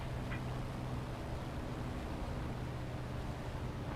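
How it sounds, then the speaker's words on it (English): A fighter plane engine in War Thunder gives off a steady, low droning hum with a faint airy rush on top, constant throughout and heard without talk. "I can hear another engine in my headphones."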